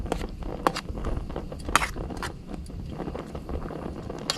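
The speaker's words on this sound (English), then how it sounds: "I'm going to eat a sausage." Close chewing of a cooked sausage outdoors, soft wet crunches and mouth clicks repeating irregularly over faint background rustle.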